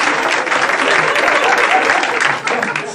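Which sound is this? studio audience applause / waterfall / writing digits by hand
studio audience applause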